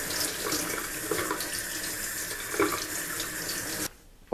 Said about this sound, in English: Just rinsing it off a little bit now.